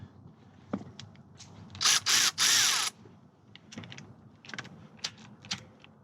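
A ratchet works on the brake caliper bolts of a Toyota Camry, giving a brief run of three quick clicking bursts in the middle, set among scattered light taps and handling clatter at low level.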